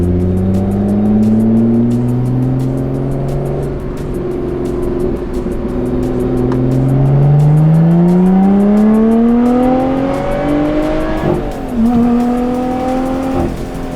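An exotic car with a custom intake accelerates hard in normal mode, the engine note climbing steadily through the gears with brief dips at each shift, loud and close throughout.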